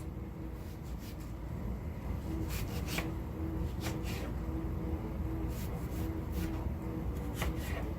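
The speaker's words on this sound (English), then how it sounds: "So I like to just cut the potato in half, cut each half in half." A knife cuts through potatoes on a board for a simple dinner, a series of soft close chops and scrapes spread unevenly over a low steady background hum.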